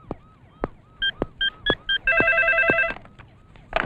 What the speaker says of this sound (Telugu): సార్, మీకు ఫోన్.